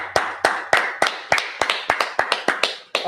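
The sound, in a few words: audience clapping at a Feast of Tabernacles service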